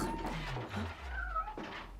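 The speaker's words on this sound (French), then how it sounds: "Ça doit être Tipex, le chat de Paul" A cat gives a few soft, drawn-out meows, faint and close over a steady low background hum, with no speech.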